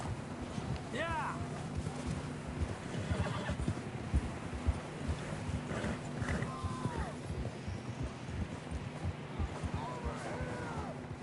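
Horses neigh and whinny repeatedly while hooves clip-clop at a gallop in the Red Dead Redemption 2 video game, with wind noise and a steady low hum beneath, a few rising whinnies standing out over the continuous hoofbeats.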